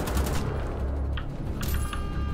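Sustained automatic gunfire from Wolfenstein: The Old Blood, loud and dense bursts rattling continuously for a couple of seconds with no talk over it.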